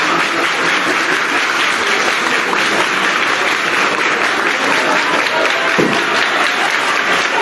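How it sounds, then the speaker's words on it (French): Sustained audience applause at a public funding event, steady and loud across the whole stretch with no break, dense crowd clapping filling the room. "Quand vous allez commencer par applaudir, c'est moi qui va vous demander d'arrêter."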